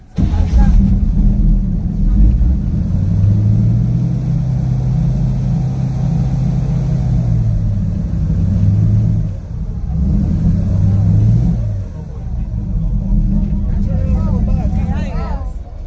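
A boat engine drones steadily and loudly up close on an Everglades waterway in Florida, its low rumble rising and falling slightly while people talk over it.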